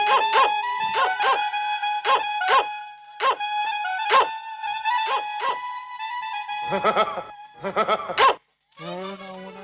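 Barking sounds during a village stage drama come as a string of sharp, repeated yelps in short bursts, fairly loud and close, with a brief quiet gap near the end.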